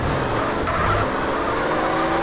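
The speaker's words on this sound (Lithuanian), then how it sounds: "Aš čia bandysiu išdrifti, kol neatsitrenksiu." A car drifts and skids in a video game: a loud, continuous engine roar mixed with screeching tires, sustained without pause and with no talking.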